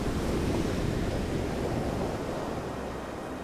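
Swollen sea surf surges against the shore by the Iztapa cemetery, a loud, unbroken roar of breaking water mixed with wind noise on the microphone.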